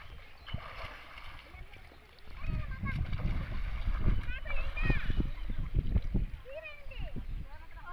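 Someone dipping and washing in water makes repeated sloshing splashes and gurgles, growing busier midway. Voices talk over the splashing for most of the clip.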